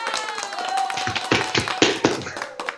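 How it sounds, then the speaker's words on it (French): Several people clapping over a live online call, a loose run of sharp irregular claps that grows stronger midway and trails off, close and fairly loud. "On fait des gros applaudissements."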